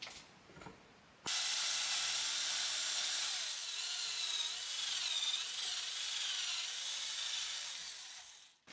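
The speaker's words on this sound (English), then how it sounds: "you will have noticed when I was drilling that hole that I rocked the bit back and forth" A power drill bores holes in wood, running steadily for several seconds after a brief pause, a loud continuous whirring grind with slight wavering pitch as the bit rocks back and forth.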